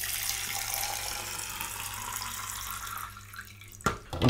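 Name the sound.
filling coffee machine water tank with filtered water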